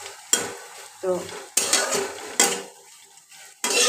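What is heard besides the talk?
stirring eggs frying in a pan for pasta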